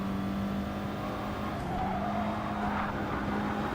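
GT Sport race car engine droning steadily with quick downshift blips and a faint tire squeal, constant and close throughout.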